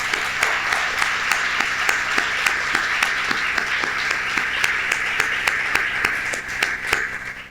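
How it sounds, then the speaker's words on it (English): An audience at a merger celebration applauds in a steady, even patter of many hands, sustained for several seconds before tapering off at the end. "Please join me in a round of applause for them"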